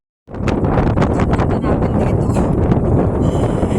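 Strong wind buffets the microphone in a loud, continuous roar with gusty rushes and no speech, on the Dragon's Back hiking trail in Shek O, Hong Kong.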